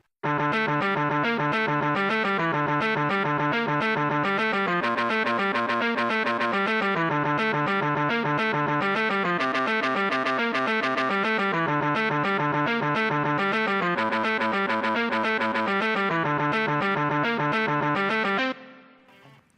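Harmony line on an electric guitar run through distortion, chorus and echo effects, playing a steady, dense run of notes for about eighteen seconds at an even loudness before stopping abruptly.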